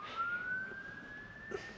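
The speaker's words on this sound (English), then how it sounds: "siren going past there" A faint emergency siren wails as it passes outside a parked campervan on a cold night, one steady rising tone held throughout under a low background hiss.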